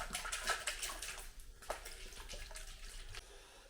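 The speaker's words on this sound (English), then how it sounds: "I'm going to throw the coolant in it now first" Clear coolant poured into a Mazda MX-5 engine during an engine and automatic gearbox install, a steady liquid trickle and splash running close by through the whole stretch, with a few brief knocks.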